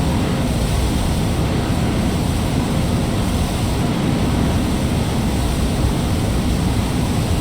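Roaring tornado wind in a storm-chasing video game: a loud, steady, dense rush of noise that fills the whole stretch without letting up.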